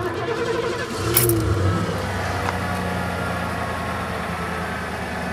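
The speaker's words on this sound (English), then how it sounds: "So we'll now check the actual engine startup." 1989 Lincoln Town Car engine cranking briefly, catching with a short rev, then settling into a steady, smooth idle that hums on close by without talk.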